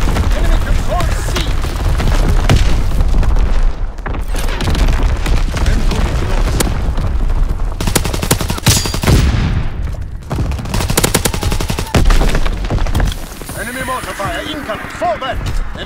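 Artillery explosions and gunfire in a multiplayer shooter battle, with continuous loud booms and rattling fire throughout and radio voice callouts over the top.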